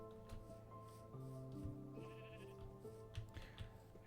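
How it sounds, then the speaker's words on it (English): Goats in the video game Minecraft bleating several times in a row, short wavering calls over faint background game sounds, fairly quiet overall. "There's goats."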